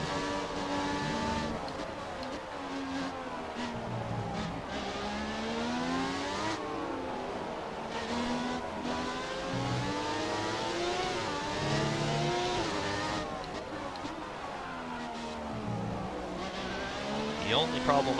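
High-pitched, screaming V12-style engine of a McLaren MP4/6 race car lapping Interlagos in a racing game, rising and falling through gear changes, with someone commentating over it.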